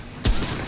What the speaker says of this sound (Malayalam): വെടി തുടങ്ങിയ അവിടെ?